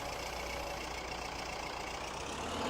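A noisy tractor engine runs continuously in a wilderness survival game, a steady loud broadband drone with a low rumbling hum and no pauses.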